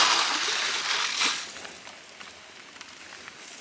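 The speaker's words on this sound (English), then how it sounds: "We got water going through there." Water rushing through a newly installed garden waterline as valves open, a steady hissing gush strongest early on that tapers to a quieter flow, with a few small drips and clicks near the end.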